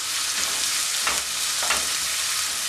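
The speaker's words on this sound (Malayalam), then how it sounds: "ഉപ്പും കൂടെ ചേർത്തിട്ട് നന്നായിട്ട് വഴറ്റിയെടുക്കുക" Onion and green chili sauté with salt in a pan, giving a steady soft sizzle with a few light stirring scrapes.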